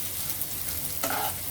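Vuna khichuri sizzles and fries in a pan while a spoon stirs it, a steady close crackle with a sharper scraping stir near the end.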